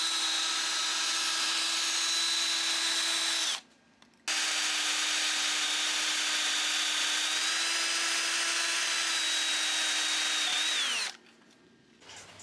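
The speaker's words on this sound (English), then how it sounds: "our plan B, is just pretty much just drilling it through and then tapping it" A power drill bores through a stuck oil pan bolt on a BMW E46 engine, a high steady whine running for several seconds, stopping briefly, then resuming before winding down.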